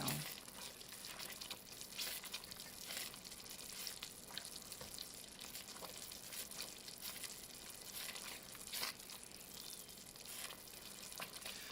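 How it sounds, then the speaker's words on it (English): Strawberry jam at a rolling boil in a pot on the stove, giving a steady, dense bubbling and sizzling that continues without a break throughout. "I can't stir the boils to get them to stop like I could a little while ago. That's a rolling boil."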